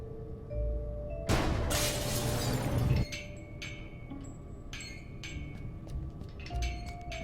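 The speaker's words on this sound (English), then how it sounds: "I got rid of the glass above the door to the lab." Glass shattering above a lab door in the adventure video game Gibbous - A Cthulhu Adventure: one loud burst of breaking glass lasting under two seconds, followed by scattered small clinks and tinkles of falling shards, with no talk.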